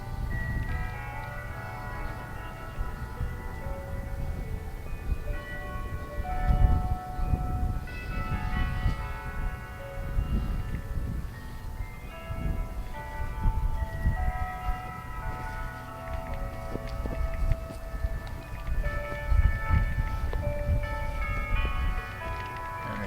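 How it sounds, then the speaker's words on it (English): Church bells ringing on a downtown street corner in Palestine, a sustained peal of overlapping tones heard from some distance over low city rumble, with no talking. "Hear the church bells from the church we just were looking at down there on the corner"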